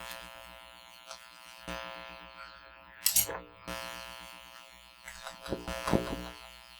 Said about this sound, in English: I'm going to fold it over and add some more stitches.